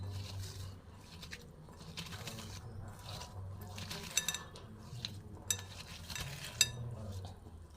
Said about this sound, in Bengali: দেখো আমি এটা খুব সুন্দর করে কচলে কচলে মেখে নিচ্ছি।